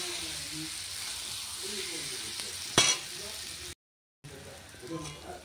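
Potatoes sizzling in oil in a pan for a fish curry, a faint steady frying hiss with occasional stirring and a brief utensil clink, and a short silent gap near the end.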